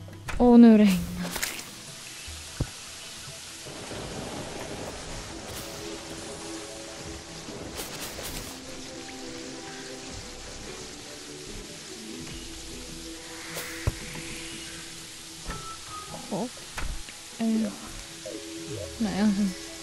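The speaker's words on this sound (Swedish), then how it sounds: "Och nu regnar." Rain in the video game Terraria, a soft hiss of falling drops behind other game sound effects, with scattered brief blips and tones over the steady patter.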